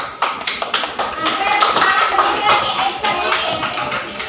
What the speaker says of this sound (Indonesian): Aplaus untuk kalian semua.